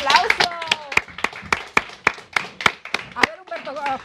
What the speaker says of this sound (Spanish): A ver, un aplauso.